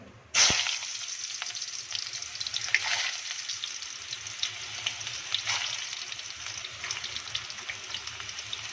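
Onions are dropped into hot ghee in a kadhai for a kadhi pakora tempering, setting off a sudden loud sizzle that settles into steady close-up frying with light stirring, no talking.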